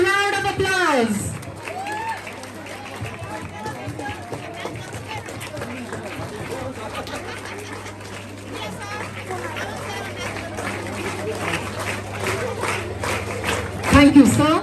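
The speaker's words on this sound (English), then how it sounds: "please welcome him with a huge round of applause" Audience clapping at a school karate show, continuous applause mixed with crowd chatter and a voice over a loudspeaker, with a low hum running underneath.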